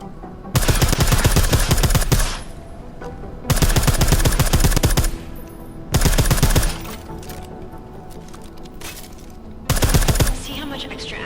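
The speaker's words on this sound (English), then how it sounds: "I like how silencers reduce sound, but the trade-off is less stopping power, less damage per hit." Suppressed gunfire in Deus Ex Mankind Divided, four loud bursts of rapid automatic fire separated by short quiet gaps.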